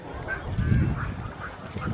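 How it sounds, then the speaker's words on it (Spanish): Ducks honk and quack outdoors in a few short, scattered calls at moderate distance over a soft background murmur. "Mira los patos, papi."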